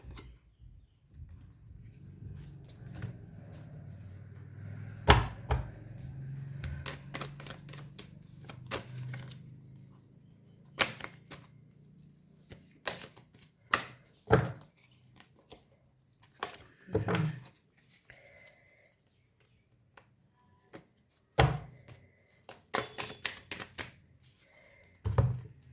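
Tarot cards being shuffled and handled at close range, quiet rustling followed by sharp clusters of flicks and taps coming in bursts with pauses between, no talking over them.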